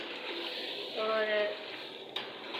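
Chicken and potatoes sizzling while being stirred and fried in a pan, a steady soft crackle with a brief louder scrape of stirring and a light clink near the end.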